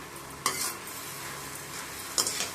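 Green chillies and tomatoes sautéing in a pan for Andhra-style chutney, a soft continuous sizzle broken by two brief scraping stirs of a spoon, close and fairly quiet, with no speech.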